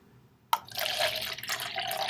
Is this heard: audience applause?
no